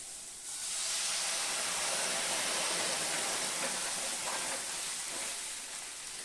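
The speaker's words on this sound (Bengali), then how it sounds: "আমি এখন জল দিয়ে দিব।" Water poured into a pan of fried stalks and potatoes sets off a loud, sustained rushing hiss of steam and bubbling, close up, lasting several seconds before easing slightly.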